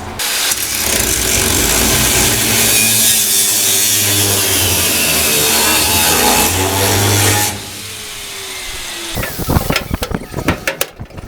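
Metal for a car quarter panel is cut with a power tool in a garage, a loud continuous grinding, buzzing cut for about seven seconds, then a quieter pause followed by several sharp clanks and knocks.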